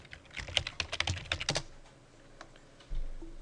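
Quick bursts of clicking keys on a computer keyboard, a dozen or so close taps in a rapid run that trails off, with a faint thump near the end.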